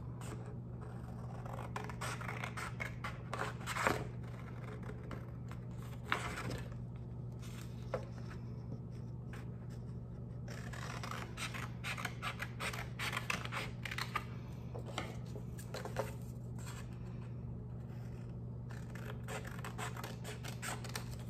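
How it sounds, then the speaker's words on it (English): Scissors snipping and scraping through paper to cut out small boxes, producing a continuous series of quiet crisp cuts and rustles over a low steady hum. "Now, I'm gonna go ahead and cut them out."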